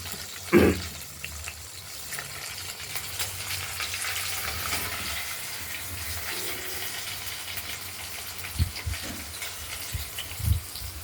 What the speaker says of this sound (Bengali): পনিরগুলো হালকাভাবেই ভেজে নেব আমরা